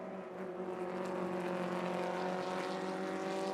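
Two 1960 race cars, a Porsche Abarth and an Alfa Romeo SZ, battling in a vintage road race, their engines droning steadily at a distance with a sustained, buzzing mechanical tone that holds throughout.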